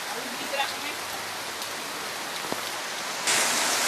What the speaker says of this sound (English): Rain, guys, rain.